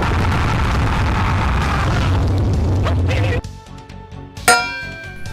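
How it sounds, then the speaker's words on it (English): Mortal Kombat 2 arcade game audio: a dense roaring rush cuts off abruptly, followed by ringing metallic tones and a sudden loud burst that decays, as heard during Scorpion's fire fatality. "you could hear the same sound effect when you did Scorpion's fire fatality."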